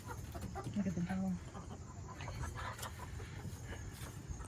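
Backyard chickens clucking close by, one clear low cluck standing out over a soft, continuous background of faint fowl sounds and rustling.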